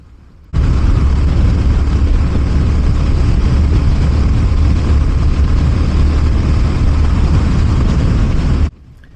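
A Honda GB350S single-cylinder motorcycle cruising on the motorway in fifth gear at around 60–70 mph, a loud, constant low engine drone with steady wind rush that starts abruptly and holds evenly for about eight seconds.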